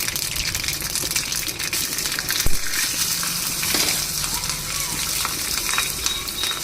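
Mustard seeds and green chillies sputter in hot oil while a tempering is made for curd rice, giving a steady close broadband sizzle with crackles throughout and one sharp pop midway, with no talking.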